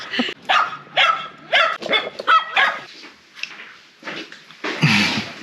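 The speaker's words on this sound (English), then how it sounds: "75 minutes with a dog barking at us, I guess." A dog barks repeatedly at close range at a flotation centre in Tucson, a series of loud, uneven woofs and yips with short pauses, ending in a rougher bark.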